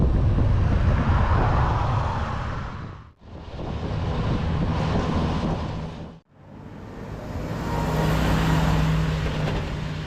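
Road traffic passing on a slow roadside climb during a cycling trip, with vehicles swelling loud and close in long whooshes, briefly cut in two places, along with heavy wind buffeting.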